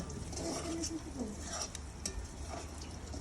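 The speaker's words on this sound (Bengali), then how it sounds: "আর ওইদিকে আপা পেঁয়াজ ভাজতেছে" Onions fry in oil with a crackling sizzle while utensils stir and scrape against the pan, close by and without speech.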